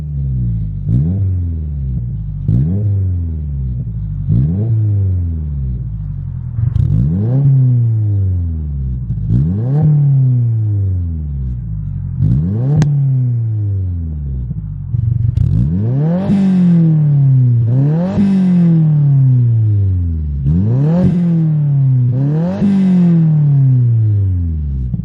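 A Subaru WRX engine with a single exit exhaust revs again and again up close, the deep exhaust rumble climbing in pitch with each loud, repeated throttle blip.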